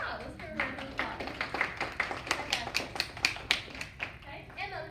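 Classroom applause for a young child after a phonics exercise: a short burst of clapping from a small group, irregular and fairly close, with a voice and other voices heard around it.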